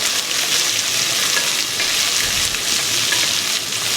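Beetroot and carrot frying in a pan on low heat give off a steady, even sizzle, a continuous crackling hiss that stays close and unbroken throughout, with no voices.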